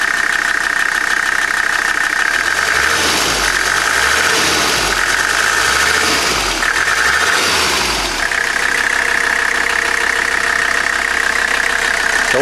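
A Mercedes 300D diesel engine running after a head replacement, loud and close, with a steady knocking clatter, a whining tone on top and a few deeper revving swells in the middle before settling back to idle.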